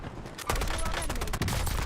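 Rapid automatic gunfire from the video game Warzone, a loud burst of quick repeated shots that starts partway in and keeps going to the end.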